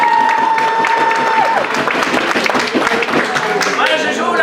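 A theater audience applauds a young performer named Mathis at a storytelling show, steady dense clapping with some cheering that continues throughout, mixed with crowd murmur.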